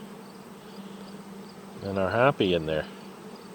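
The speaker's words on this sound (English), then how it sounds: "Even the little hive next door there seems to be inheriting some bees from this operation." Honey bees buzz steadily around a hive box after a swarm capture, a queen excluder fitted to its base; the hum runs low and continuous while someone speaks briefly over it.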